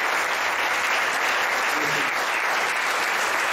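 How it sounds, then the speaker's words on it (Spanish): Sustained audience applause fills a church hall during a sermon, with dense, steady clapping from a large congregation and no speech over it. "yo quiero que le den un aplauso más fuerte que el que dieron en el campo"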